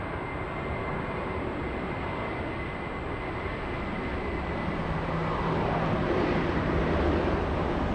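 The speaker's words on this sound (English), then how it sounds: "JetBlue heading out to New York." A JetBlue airliner departs Los Angeles bound for New York, its engines a broad steady roar heard from a distance that swells slightly toward the end.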